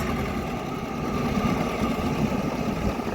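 A small tractor engine idles steadily up close, its rough, knocking mechanical chug holding an even rhythm throughout with no voices over it.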